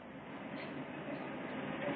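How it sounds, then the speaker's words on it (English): A steady rumble of a train arriving, continuous and fairly close, with no speech over it. "Well, there's our train."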